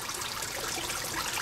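Water siphons back down through a small mini aquaponics system, a steady, dense rushing trickle that fills the whole short moment without pause, close and fairly loud.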